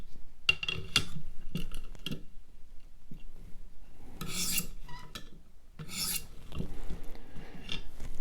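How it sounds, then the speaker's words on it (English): A ViperSharp sharpener is drawn in forward strokes along a Hinderer Firetac knife blade to clear the burr, giving close, dry rasping scrapes in separate bursts with short pauses and light clicks between them. "I'm going to just clear that burr off with forward strokes against the blade."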